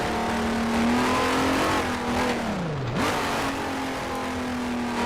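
A Honda RA300 race car's V12 engine in the Grand Prix Legends racing game holds a loud, steady high whine, dips briefly as the revs drop for a shift, then climbs back to a sustained scream.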